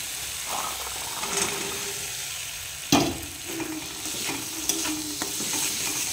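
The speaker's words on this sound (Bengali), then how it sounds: "মশলাটা আমার কষানো হয়ে গেছে, এবার দিয়ে দেবো মটরশুঁটি" Green peas stirred and fried in a masala paste for Bengali aloo dum, with a spatula scraping and rattling against the pan over a steady, low sizzle, and a sharp clank near the middle.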